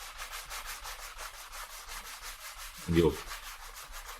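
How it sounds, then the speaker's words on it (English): Steady sanding of a primer coat on an acoustic guitar kit body: a close, continuous rhythmic rubbing with regular back-and-forth strokes, then a brief bump near the end as a word is spoken. "when we start sanding, you'll notice that orange peel effect will be in place"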